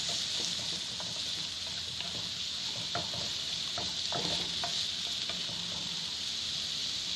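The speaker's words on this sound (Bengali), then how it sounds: "এর মধ্যে রসুন কুচি দেওয়ার পরে 3 থেকে 4-5 মিনিট এগুলো কষিয়ে নিতে হবে।" Chopped garlic sautéing with okra in a pan gives a steady, close sizzle, broken now and then by soft stirring scrapes and light clicks, with no voices.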